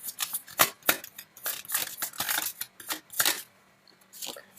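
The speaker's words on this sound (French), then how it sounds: "On va sortir une dernière carte pour vous." Tarot cards being handled and drawn from a deck, a run of close, crisp papery slides and flicks in quick irregular bursts, with no voices over them.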